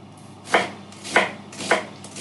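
A knife chops through half an onion on a board in four separate, evenly spaced crisp strokes, close and clear with no voices.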